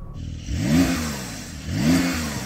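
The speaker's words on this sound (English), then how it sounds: "Let's have a listen to that Porsche." A Porsche 911 Turbo S engine is revved twice up to its limiter, each blip rising sharply then falling back, loud and close with a brief idle between the two pulls.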